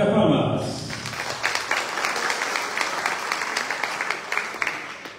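A crowd applauds at a university academic-year inauguration ceremony in Chilca, a dense, steady patter of many hands clapping for about five seconds after a brief voice at the start.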